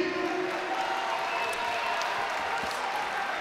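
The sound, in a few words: crowd applauding boxers at start of round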